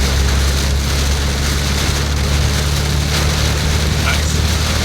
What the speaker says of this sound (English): When we got to the highway, we soon saw ominous dark clouds in the distance, and the heavy rains began.